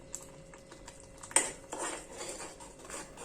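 A few light metallic clinks and a scrape of a spoon in a pan as onion curry with garam masala, red chilli powder and salt is mixed, brief and close against a quiet background, no talk.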